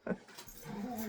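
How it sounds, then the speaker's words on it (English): Several dogs play and make noise indoors, with a sharp yip at the start followed by a steady run of growls and whimpers close by, and faint rustling. "Hey, doggies, doggies. They are going at it."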